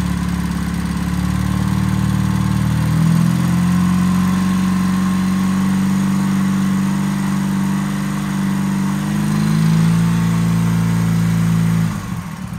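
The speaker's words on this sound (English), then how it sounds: "With the throttle, bring it up off idle." A carbureted BMW Airhead boxer motorcycle engine with Bing carbs runs steadily near idle, then the throttle lifts it into a higher, sustained rev before it settles back and drops off, loud and close throughout.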